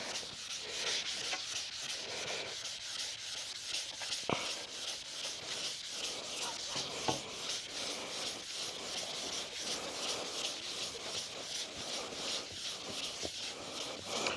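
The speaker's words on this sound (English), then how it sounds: "slightly sanding it" Wood is sanded lightly with 400-grit sandpaper in soft, steady back-and-forth rubbing strokes, quiet and close, with no voices.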